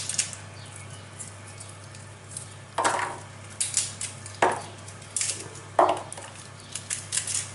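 Garlic cloves broken from a whole head are dropped one by one into a roasting dish with rosemary and chicken, giving several crisp clattering clicks at irregular intervals over a quiet kitchen background.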